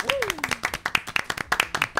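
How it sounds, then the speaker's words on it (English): A debate audience claps steadily in a brisk, dense patter, with a voice speaking over the applause. "give a huge round of applause to our debaters"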